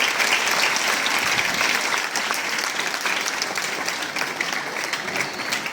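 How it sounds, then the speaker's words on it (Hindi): Steady audience clapping at a school Hindi fortnight closing ceremony welcoming the chief guest, a dense, even burst of applause from many hands held for several seconds without pause. "करतल ध्वनि के साथ उनका स्वागत"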